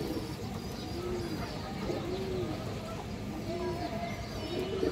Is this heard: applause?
no